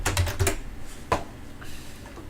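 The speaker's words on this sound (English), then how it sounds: "let's just type it out" Fingers typing on a computer keyboard, a quick burst of clustered key clicks up front, then a single sharper tap and a few softer, scattered presses, close and clear with no talking.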